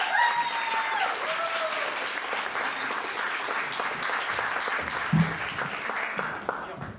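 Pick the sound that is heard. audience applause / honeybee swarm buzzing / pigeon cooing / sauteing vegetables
audience applause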